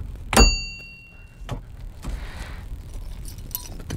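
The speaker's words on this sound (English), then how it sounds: "Put the key in the ignition to make sure we have full range of motion with no problems" Metal car keys jangle in a sharp burst, then a few softer knocks and rustles follow as the key goes into the ignition of a 1994 Mazda Miata, close up with no voices.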